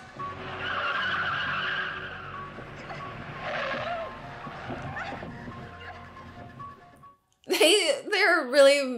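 A car skids and speeds off in a scene from the 1978 film Halloween, a long smeared roar of tire and engine filling most of the clip under tense music, then cutting out before loud excited reactions from people watching.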